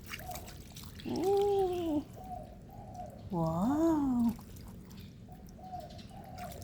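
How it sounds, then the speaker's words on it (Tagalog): Water trickles and splashes steadily as it is poured over a pet bird at shower time, broken by two loud, rising-and-falling squawks from the bird, and a person briefly exclaims. "Busan muna kita ng tubig."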